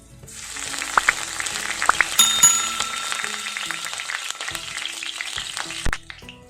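Curry leaves and chopped green chilies hit hot oil in a pan, crackling and sizzling loudly with sharp pops and spits, the frying hiss fading out near the end.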